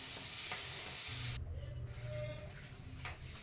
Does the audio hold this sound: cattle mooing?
no